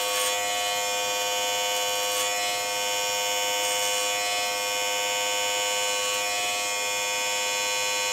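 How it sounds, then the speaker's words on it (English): An electric beard trimmer runs continuously while lining up a beard, a steady close high-pitched buzz with slight shifts as it moves over the hair and no speech. "Just took the trimmers, lined it up lightly"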